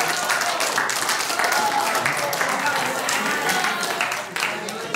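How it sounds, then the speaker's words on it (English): An audience at a gathering breaks into steady, dense applause, a wash of many clapping hands held close and even for about five seconds before easing slightly near the end. "Give them a round of applause."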